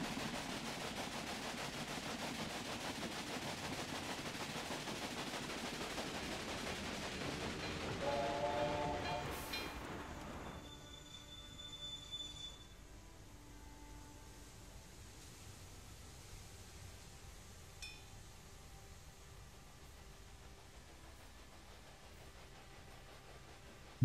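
A train rolls along in the Railway Empire video game, a steady rushing rumble with rhythmic clatter that grows louder then drops to a softer hum after about ten seconds, alone without talk.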